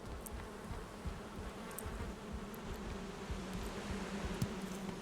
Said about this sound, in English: Put my bees up here.